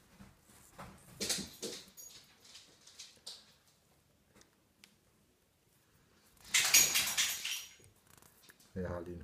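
A dog whimpering and yipping indoors during a crochet session, faint scattered whines in short bursts, with someone talking in between.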